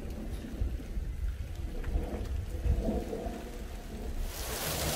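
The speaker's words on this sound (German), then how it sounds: "Schaut mal jetzt, wie das regnet." Steady rain pouring down outdoors during a May visit to an open-air museum, a dense continuous hiss with low rumbling wind or thunder underneath, fairly faint, with no voices.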